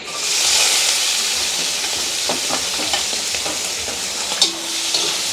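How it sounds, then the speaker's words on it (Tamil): Onions and green chillies fry in coconut oil with a steady, close sizzle and hiss, broken by light stirring scrapes and a few clinks, and no one speaks. "பெரிய வெங்காயம் பட்டி வச்சுருக்கிறோம் அதோட வந்து பச்சை மிளகாயும் கொஞ்சம் பட்டி வச்சுருக்கிறோம் போட்டுக்கொள்வோம்"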